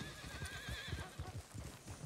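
A horse in the Red Dead Online western video game neighs with a wavering whinny over rhythmic close hoofbeats, fairly loud and without talk.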